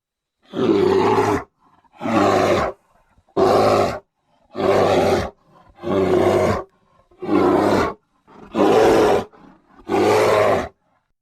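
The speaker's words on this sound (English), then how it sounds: "Grizzly." A grizzly bear roars eight times in a row, deep, loud and close, each roar lasting about a second with short silent gaps between.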